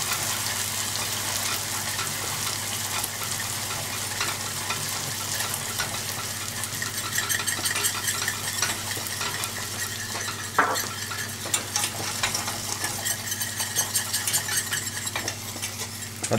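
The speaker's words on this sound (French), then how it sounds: "on rajoute le beurre et on mélange vigoureusement. Avec un fouet, comme ceci." A whisk beats butter vigorously into hot salted-butter caramel in a pan, a steady scraping, stirring rattle with a soft sizzle underneath, continuous and close for the whole stretch with no talking.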